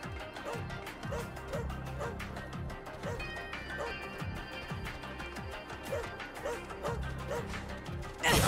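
Dog barking in the video game Astral Chain, repeated yips and barks running through the whole stretch over game music and effects, moderately loud and continuous.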